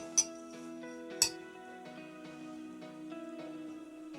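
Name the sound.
spoon clinking while scooping moka pot coffee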